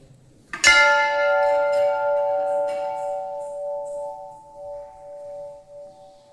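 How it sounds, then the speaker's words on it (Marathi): A large bell at the Daityasudan temple in Lonar is struck once, giving a bright metallic clang that rings on in a long, slowly fading hum, close and loud, with faint background noise. "बघू शकता किती मोठा घंटा आहे इथं."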